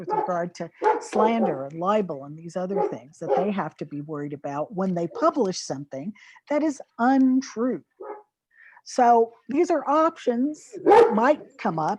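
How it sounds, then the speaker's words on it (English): Two pet dogs bark boisterously in a home, with short yips and barks popping up repeatedly under a man's continuous speech. "Pardon my two dogs, they're a little boisterous at the moment."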